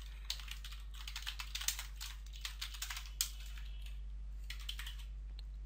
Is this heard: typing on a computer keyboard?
yes